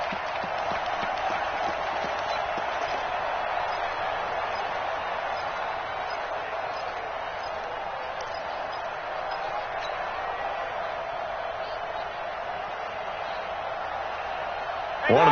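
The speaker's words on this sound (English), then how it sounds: "The crowd getting into it as we come up on a big 3rd down." Football stadium crowd at Steelers at Texans, a steady roar of cheering and clapping from the stands that holds at an even level throughout, distant and unbroken, with a brief louder swell at the very end.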